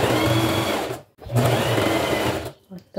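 A sewing machine stitches a small seam along the sides of fabric for a handmade kit, two loud sustained motor runs separated by a brief pause, ending in a short stop-start burst.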